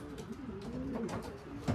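Adana pigeons coo in low, throaty rolling calls, several birds overlapping close by in a reverberant enclosed loft.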